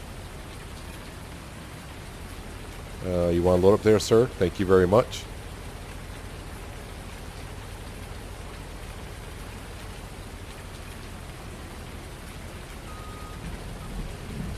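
Steady rain falling in Farming Simulator 19, a constant hiss throughout the scene, with a brief burst of a character's voice early on.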